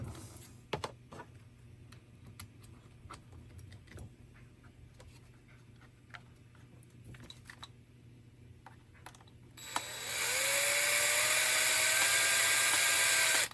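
Quiet ticking and small clicks, then a power drill starts and runs at a steady high whine, close and loud, while assembling an environmental analyzer.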